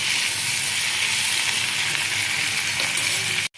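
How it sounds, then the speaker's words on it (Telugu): Tomatoes and turmeric sizzle steadily in a hot pan as they are stirred, a continuous loud frying hiss with a faint clink near the end before it cuts off abruptly. "పసుపు వేసుకొని మనం కలుపుకోవాలి"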